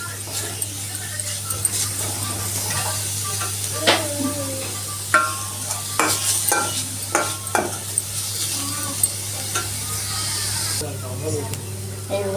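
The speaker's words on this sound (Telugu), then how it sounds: "ఇది బాగా నెయ్యిలో ఫ్రై చేయాలండి క్యారెట్ తురుముని." Grated carrot fries in ghee with a gentle steady sizzle, punctuated by repeated spoon scrapes and taps against the pan as it is stirred, while a voice talks over it.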